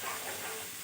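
A paste of onion, garlic, ginger and green chilli hits hot oil in a pan, giving a brief, steady broadband hiss of sizzling with no voices.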